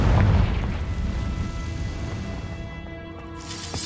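A Confringo fire spell bursts in the video game Hogwarts Legacy, a heavy booming explosion right at the start that trails off into a long rumbling decay, with a brighter crackle near the end.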